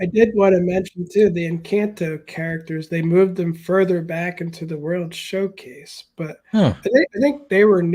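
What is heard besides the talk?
No everyday noises stand out.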